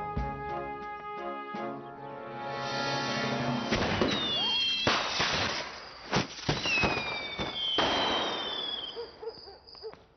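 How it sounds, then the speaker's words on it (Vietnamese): Cartoon fireworks go off in a loud, continuous display, with rising whistles streaking upward and several sharp bangs and crackling bursts layered over one another, and no talking. "Cũng gần tới giờ đốt pháo hoa rồi ha."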